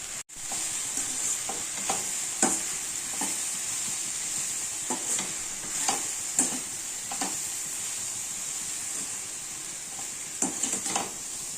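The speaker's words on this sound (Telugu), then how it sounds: "ఇలా బాగా ఫ్రై చేసుకోవాలి ఒక 10 మినిట్స్ వరకు లో ఫ్లేమ్లో." A curry with masala powder and turmeric is stir-fried on a low flame, with a steady soft sizzle broken by repeated scraping clicks of a spoon against the pan.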